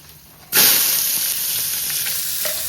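Whole spices dropped into hot ghee and oil erupt in a sudden, loud hissing sizzle that stays strong and steady afterward, with light stirring scrapes near the end.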